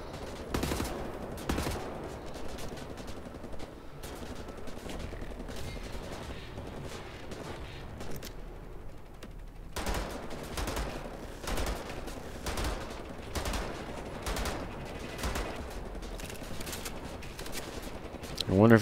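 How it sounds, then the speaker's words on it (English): Gunfire in a video game while shooting a large Nazi enemy: repeated sharp shots and bursts spread across the stretch, moderately loud, with someone talking intermittently over them. "Meanwhile, I'll shoot this oversized Nazi here."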